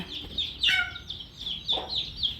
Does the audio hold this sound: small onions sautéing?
no